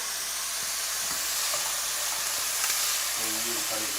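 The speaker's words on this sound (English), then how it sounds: "I'm going to go ahead and I'm going to give this another quick stir." Chicken sizzles steadily in a hot pan for Dominican chofan, a continuous close frying hiss with a few soft scraping stirs near the end.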